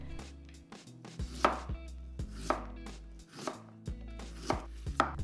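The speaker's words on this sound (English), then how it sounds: "Slice one large piece of peeled ginger." A knife slices through a large piece of peeled ginger on a cutting board in a run of about eight crisp, evenly spaced thuds with a faint ringing tail, close and clear with no voices.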